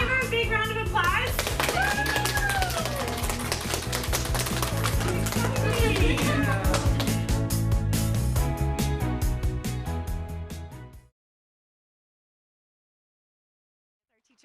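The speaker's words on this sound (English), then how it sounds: "Can we give her a big round of applause?" Applause for a Teacher of the Year at a Chamber of Commerce awards dinner, sustained and loud for about eleven seconds, mixed with music or cheering, then stopping abruptly into silence.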